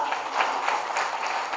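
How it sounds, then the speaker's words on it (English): Audience at a graduation ceremony applauding, a dense wash of many hands clapping with no break through the short stretch, moderately close and with no voices over it. "So I think we can have a big round of applause for INIFD here."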